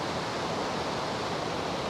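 A powerful waterfall seen from a hanging bridge roars as a steady, dense, broadband rush of water, loud and unbroken, with no voices over it.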